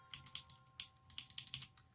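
Light bronze mechanical switches on a GMMK TKL keyboard click in quick, uneven bursts of sharp keystrokes, close up with no talking.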